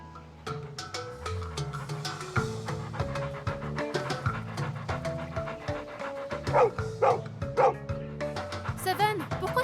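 A dog named Seven barks and pants in quick, yipping bursts with a few whimpers, close and fairly loud over a steady musical background.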